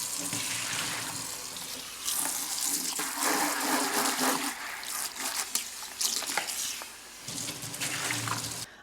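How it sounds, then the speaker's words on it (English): Regular tap water runs steadily through a houseplant pot, splashing and trickling as it flushes out the soil of a large Monstera albo, with brief surges and dips in the flow. "I'm just gonna use regular tap water and just run it through, flush this out really good."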